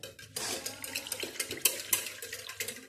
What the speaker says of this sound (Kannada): ಈಗ ಸ್ವಲ್ಪ ಸ್ವಲ್ಪ ನೀರು ಹಾಕಿ ಅಡುಗೆ ಮಾಡ್ಕೋಬೇಕು